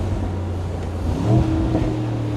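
A Mercedes-AMG SL 55 4MATIC+ from 2025 with a V8 engine, heard as a low steady rumble with a brief swell in revs midway, plus some wind noise, with no voices.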